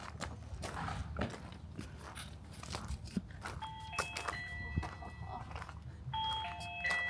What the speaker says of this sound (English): Go ring the doorbell.